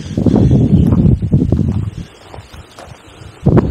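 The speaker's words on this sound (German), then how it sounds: "Es ist ziemlich windig hier." Strong gusts of wind buffet the microphone in loud, uneven rumbling waves on a Black Forest hiking trail, easing briefly before surging again.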